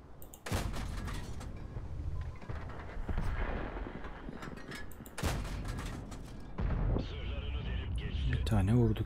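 Tank cannon fire in World of Tanks, a Soviet-gun battle with repeated heavy booming blasts, several sharp loud shots spread across the clip with rumbling battle noise between them.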